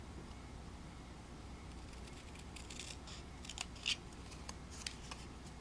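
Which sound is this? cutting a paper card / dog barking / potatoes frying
cutting a paper card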